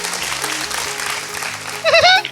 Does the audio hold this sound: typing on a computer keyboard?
no